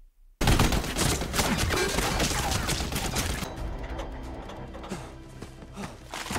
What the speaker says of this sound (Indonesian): dia pun langsung bergegas buat pakai senjata yang di atas tank buat ngebombardir si Atami